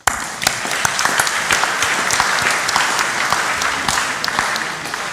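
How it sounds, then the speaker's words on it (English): A conference audience in a large hall gives loud, continuous applause, with sharp individual claps standing out near and far for several seconds. "I think we all need to clap for that"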